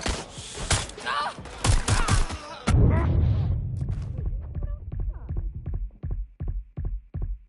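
Gunfire in the video game Watch Dogs: Legion, a dense burst of loud shots that gives way to sparser, evenly spaced single reports and thuds, with voices shouting over parts of it.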